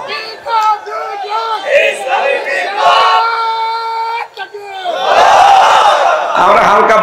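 A large crowd at a religious rally chants takbir slogans in loud, unison bursts, answering a leader's call with swelling, echoing shouts.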